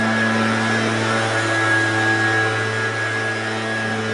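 A steady, droning leaf blower motor whine with a constant hum holds without a break nearby, blowing off a carport.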